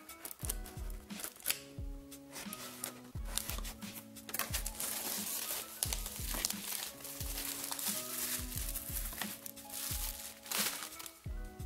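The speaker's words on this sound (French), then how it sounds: "je vous laisse profiter du petit ASMR de déballage." Unboxing of an OK Eclipse speaker and an LED bedside lamp, close crinkling of packaging and plastic wrap with soft tapping and handling over a gentle musical background.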